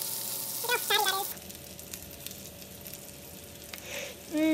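Sausage dish topped with cheese sizzling steadily in a pan at close range, a constant crackling hiss, with brief voice-like tones near the start and end.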